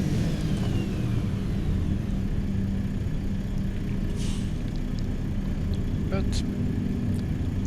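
Truck engine in the Euro Truck Simulator 2 video game, a non-Scania V8, drones as a steady low rumble throughout, with a brief word of speech over it.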